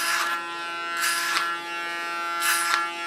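Electric hair clippers buzzing steadily during a haircut, with three louder rasping passes as the blades bite through hair at a regular pace, close and continuous without any talking.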